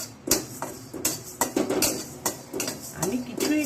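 Fennel seeds are dry-roasted in a dry pan on low heat and stirred with a utensil. A run of sharp, uneven scrapes and light taps on the metal comes from close by, with faint background sound between them.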